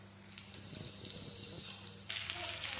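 Curry leaves fry in hot oil, giving a steady crackling hiss that jumps sharply louder and brighter near the end as the frying intensifies.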